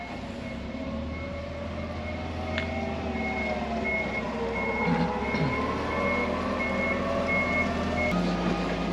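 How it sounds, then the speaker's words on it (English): A forklift loads a pallet onto an HGV trailer and sounds steady reversing beeps in an evenly spaced rhythm over a diesel engine rumbling outdoors. "I'll just let the forklift put this pallet on"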